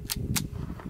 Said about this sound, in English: Ruger Mark IV. This is federal ammo, and it is moving at 1240 feet per second. Shooting it unsuppressed first.